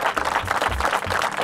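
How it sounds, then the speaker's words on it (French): Crowd applause at an outdoor civic ceremony unveiling an engraved stone, a dense steady patter of clapping filling the short moment at moderate loudness with no talk over it. "On peut applaudir."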